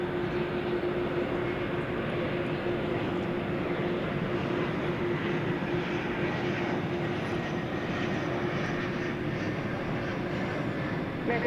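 American Airlines flight 1768 taking off at DFW Airport, bound for Phoenix, Arizona, its jet engines making a loud, steady roar that holds for the whole stretch with no voices.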